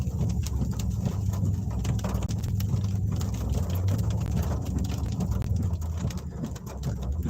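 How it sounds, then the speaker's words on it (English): A vehicle engine strains and runs rough with misfires in floodwater after a tornado in Harrison, Arkansas, a loud continuous low rumble with uneven pulsing and splashy noise throughout. "Dealing with a lot of misfires in the engine"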